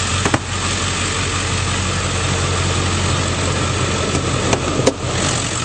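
A 2002 Ford F-350 Super Duty crew cab with the 7.3L diesel V8 and a K&N cold air intake idles smoothly and steadily, a close, constant low rumble with no revving.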